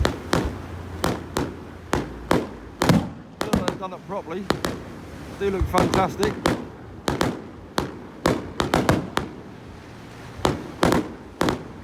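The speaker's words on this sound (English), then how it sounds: "It's a lovely firework show." Sharp fireworks bangs burst repeatedly at a beach, some close together in quick runs, with people talking between and under the explosions.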